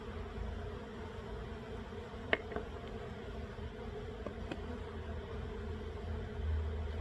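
Honey bees buzz inside a closed mite wash jar, a steady low droning hum with a few sharp taps against the container, heard close and alone.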